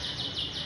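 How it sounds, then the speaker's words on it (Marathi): Birds chirp among trees strewn with fallen leaves during the rainy-season leaf fall, a brief, steady high twittering at moderate distance with no voices. "इथे असंख्य पक्षी आहेत"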